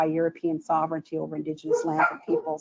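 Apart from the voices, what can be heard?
dogs barking in the background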